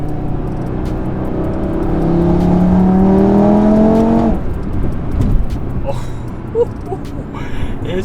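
Audi RS3 with a fully catless exhaust accelerating hard, its loud engine tone climbing through several gears for about four seconds before it drops back to a rough cruising drone with a few pops.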